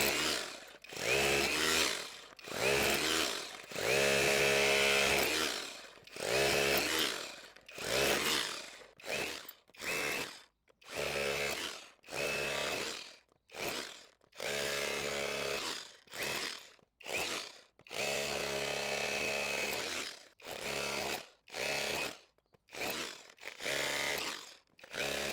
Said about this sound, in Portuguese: Agora vamos quebrar esse bloco de concreto aqui, ó, que tem inclusive pedras no meio.